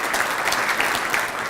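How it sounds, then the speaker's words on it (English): Brief burst of audience applause for the MC at an organization's 50th anniversary event, many hands clapping steadily at moderate distance. "Let's give him a round of applause"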